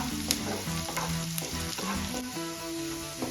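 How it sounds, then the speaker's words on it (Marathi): Onions sizzle and fry in a pan as they are cooked for a Bombay duck curry. A steady crackle continues throughout, broken by occasional sharper pops and stirring scrapes, with no talking. "आता आपल्याला कांदा छान तळून घ्यायचा आहे गोल्डन कलर येईपर्यंत"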